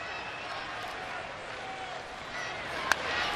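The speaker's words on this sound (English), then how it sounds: "As a record crowd awaits." Steady murmur of a large ballpark crowd at a Red Sox versus Nationals baseball game in Washington, with a brief sharp crack near the end standing out against the constant background.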